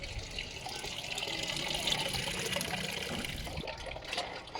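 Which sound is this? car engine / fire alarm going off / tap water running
tap water running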